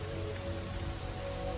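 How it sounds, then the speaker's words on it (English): Heavy rain during Taiwan's rainy season pours steadily and loudly onto surfaces, a dense, unbroken hiss with a low rumble underneath and no voices. "Taiwan's rainy season begins, and the house starts to leak."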